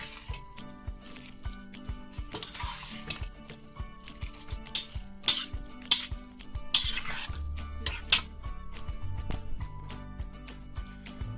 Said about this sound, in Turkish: Bu şekilde iyice karıştıracağız.